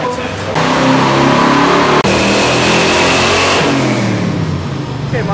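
A 1968 Camaro with a 350 cubic-inch V8, tested on a dyno, revs loud and steady for several seconds, its pitch sweeping up and holding, with a brief dip midway.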